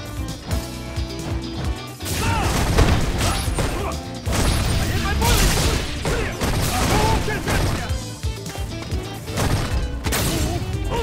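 Alex lands a power bomb in a Street Fighter V tournament match, giving a dense run of game hits, crashes and heavy slam impacts over game music, loud and busy throughout.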